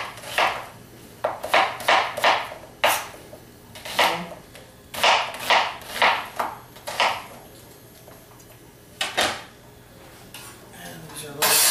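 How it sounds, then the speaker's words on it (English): Chicken backs and necks and vegetables being coarsely chopped on a board for pressure-cooker stock, with a quick run of sharp knife strikes and clacks, irregular and close, broken by pauses. "I'm just going to coarsely chop this stuff up."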